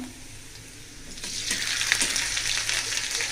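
Ginger and garlic dropped into a hot pan where onions are already frying, a sizzle that swells and becomes louder and steady midway, close up, with no talking.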